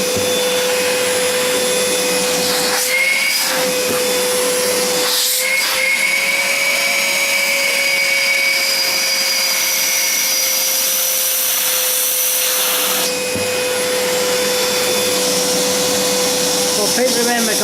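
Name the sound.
Ozito 18V wet dry vacuum running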